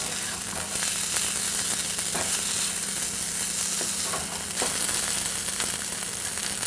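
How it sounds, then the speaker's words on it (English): Glutinous rice and sweet Chinese sausage being stir-fried with shiitake mushrooms and chicken, a steady close sizzle with repeated scraping and tossing strokes from the spatula throughout. "Chinese sausage is a little bit sweet, therefore, as you fry it, the flavor of the sausage will go into the rice."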